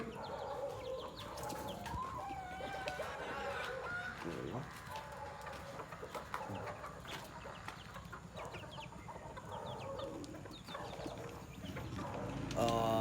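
Native chickens cluck and chatter softly at feeding time, a scattered flock heard outdoors at moderate distance amid steady background noise, with a few louder calls near the end.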